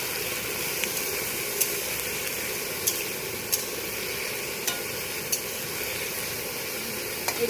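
Potatoes frying with onion in a pan on a stove: a steady, loud, hissing sizzle throughout, broken by a few sharp pops and utensil taps, with no talking.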